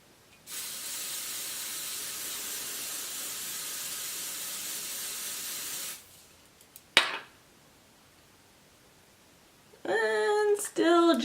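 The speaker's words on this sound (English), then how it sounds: "let's try and spray it on the sponge and see if it gives a little bit better" A steady hissing spray of foundation onto a makeup sponge runs for about five seconds, then a sharp click follows and a voice begins to speak.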